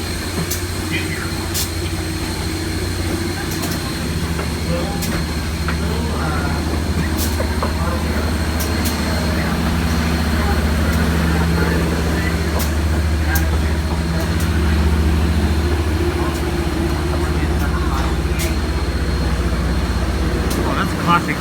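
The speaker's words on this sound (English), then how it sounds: "pull right by our upper operating steam locomotive" Steam locomotive 4501 hauling a train on a heritage railway, passing close by with a loud, continuous low rumble and heavy running noise that builds slightly toward the middle, with faint voices nearby.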